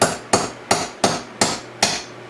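Six sharp, evenly spaced hammer blows ring out close and loud while a dance room is being built, each strike a crisp bright impact that fades quickly before the next, with no talking.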